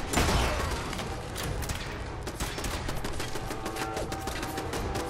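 Rapid gunfire from an antimatter rifle in the video game Fallout 4 cracks in a dense, repeated burst of close shots over a steady background din.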